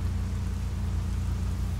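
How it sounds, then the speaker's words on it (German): Rain in the ARMA 3 video game, a continuous dense hiss with a low rumbling undertone, steady and even across the short stretch with no talk. "Regnet."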